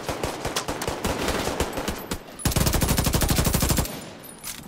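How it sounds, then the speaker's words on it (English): A turret gun fires in The Division 2 video game: scattered shots at first, then a dense, loud, rapid burst lasting over a second before it cuts off. "You think that turret gun is useful?"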